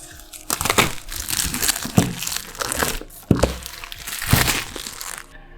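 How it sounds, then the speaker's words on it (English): Protective plastic film peels and crinkles off a OnePlus 9 Pro box in bursts of close, crisp crackling and tearing, with a few sharp snaps between pulls. "enjoy the plastic peeling"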